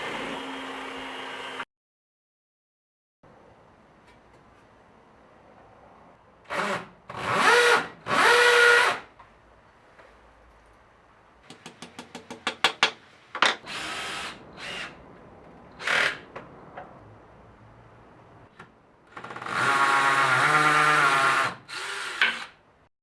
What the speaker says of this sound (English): With a step drill I made small countersinks,